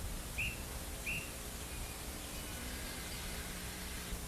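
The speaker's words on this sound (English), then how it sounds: "Oops, that's the guard's whistle." A train guard's whistle in a cartoon gives two short, high, faint blasts less than a second apart over a steady background hiss.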